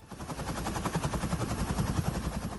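Philippine Air Force helicopters from the 505th Search and Rescue Unit on a heli-bucket fire-fighting mission over burning mountains, a loud, continuous rotor chop with rapid rhythmic beating, close by and without speech.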